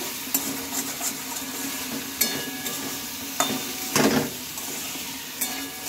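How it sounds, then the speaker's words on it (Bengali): Winter vegetables dusted with chili powder are stirred in a hot frying pan, a steady sizzle broken by repeated scraping and clinking of the spoon against the pan, close and clear with no talking. "এবার এটাকে খুব ভালোভাবে নেড়ে চেড়ে নিতে হবে।"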